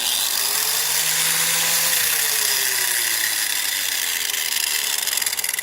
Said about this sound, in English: We're just using a Harbor Freight grinding tool here